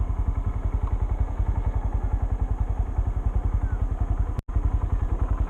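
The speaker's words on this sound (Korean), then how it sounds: "1단으로 이렇게 스로틀을 감았다가 풀었다가 감았다가 풀었다가 감각을 익히시는 것도 좋아요." A manual motorcycle idles in first gear with a fast, even thumping engine pulse, close and steady, briefly cut off by a short dropout near the end.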